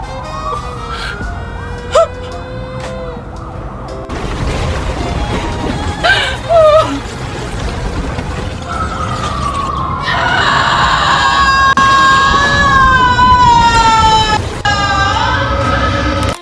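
Wailing sirens rise and fall loudly over dense street noise, several overlapping and shifting in pitch, growing more intense toward the end.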